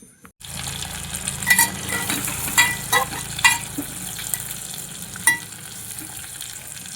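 Cumin and mustard-seed tempering sizzles steadily over stuffed brinjals in a pan, a constant crackling hiss with a few sharp stirring clinks and pops scattered through, close and unaccompanied by talk.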